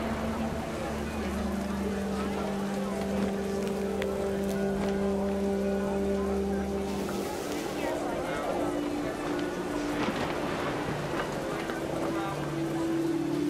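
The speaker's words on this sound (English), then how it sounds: "It's raining." Steady rain falls in the video game What Remains of Edith Finch, a constant wash of hiss and patter with a low rumble beneath, holding at an even level throughout.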